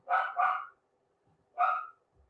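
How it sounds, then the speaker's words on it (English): Dogs bark close by in a podcast setting: two quick barks in succession, a pause, then one more bark, with no talk over them. "Do they hear my dog? And now they're barking?"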